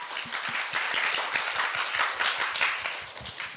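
A crowd applauds at a student speech contest, many hands clapping at once in a dense, steady patter at moderate loudness, without voices over it.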